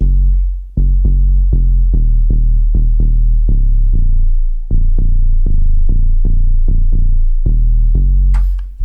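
Deep sub bass synth playing a rhythmic riff of short repeated notes for a house drop, loud and alone, with a brief pause partway through and a faint higher sound near the end.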